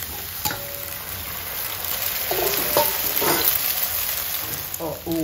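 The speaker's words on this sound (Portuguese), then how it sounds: "Os ovos já tá fritando" Eggs fry in a pan with onion and garlic, giving a steady close sizzle with crackles and occasional stirring clinks throughout.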